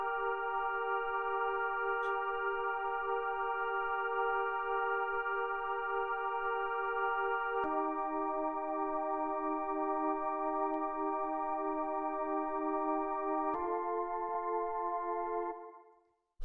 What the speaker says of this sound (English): the first sound that we have here, these chords which sound like this.